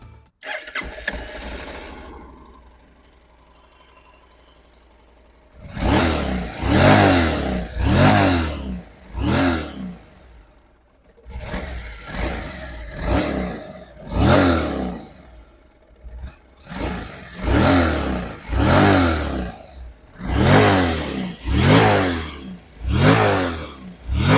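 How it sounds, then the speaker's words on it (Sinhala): A Honda NC700X motorcycle engine starts after a quiet lead-in, then revs repeatedly in loud, rising bursts separated by short idle dips. "අපි බලමු මේ බයිකේ සවුන්ඩ් එක මොන වගේද කියලා"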